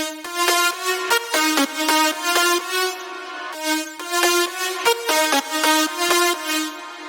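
Future house synth lead plays a bright, punchy melody drenched in big reverb, rhythmic plucked notes repeating in two similar phrases, loud and alone with washy tails between hits.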